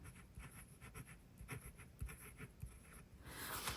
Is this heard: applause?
no